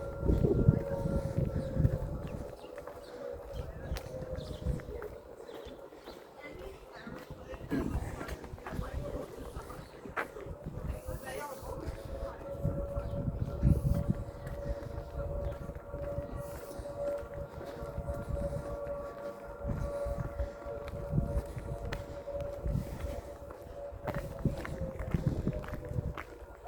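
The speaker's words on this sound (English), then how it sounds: "Don't know if you can hear that, but that's a dockyard siren" A dockyard siren sounds a weekday test in Plymouth, a steady, distant wail that holds through the whole stretch beneath close footsteps and outdoor street noise.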